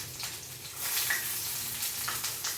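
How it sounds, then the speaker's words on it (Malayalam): Onion and mustard seeds frying in hot oil in a home kitchen for sambar, a steady close crackling sizzle that swells slightly partway through, with no talking. "അപ്പോൾ നമുക്ക് സാമ്പാറിന് കടുക് വറുത്തേക്കാം."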